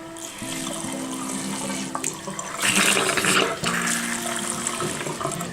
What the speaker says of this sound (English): you can hear this started to fill up and there's running water